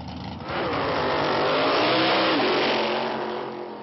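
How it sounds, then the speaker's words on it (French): A dragster race car revs loudly, its engine surging up to a sustained roar and then easing off, close and dominant with no talking. "Les images les plus répandues du dragster, ce sont celles de ces voitures d'origine américaine, plutôt monstrueuses."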